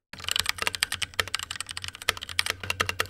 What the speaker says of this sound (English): here's a quick sound test